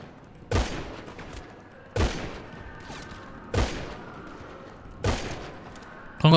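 Four loud, sharp gunshot blasts in a video game, each trailing into a booming decay, spaced roughly one and a half seconds apart, with a final burst at the end.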